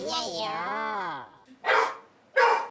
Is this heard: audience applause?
no